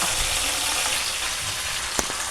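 Fish pieces sizzle in a hot pan for a fish gravy curry, a loud, steady crackling fry with one sharp clatter near the end.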